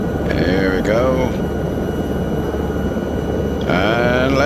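A rescue helicopter flying over the Alps in a flight simulator, a steady loud engine and rotor drone filling the whole clip, with voices talking over it at the start and end.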